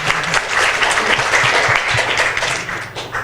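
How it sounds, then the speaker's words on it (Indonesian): Steady applause from an audience at a public health workshop session at the Faculty of Medicine, Universitas Gadjah Mada, dense continuous clapping that fills the room throughout and tapers slightly at the end. "Kita tepuk tangan untuk pagi ini dulu"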